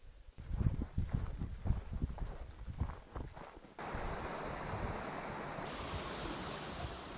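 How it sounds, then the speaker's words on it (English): A stream beside the Pacific Crest Trail in Oregon rushes steadily, its broadband wash heard close after a few seconds of irregular thumping and handling noise at the start. "This stream right down here is the last stream or water source at all on trail north"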